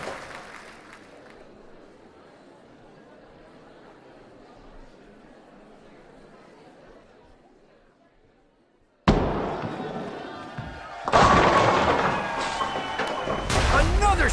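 Bowling ball striking the pins at a professional PBA bowling match, a sudden loud crash of scattering pins breaking out of quiet crowd murmur and commentary, followed by a second burst of rattling, clattering pins and crowd noise.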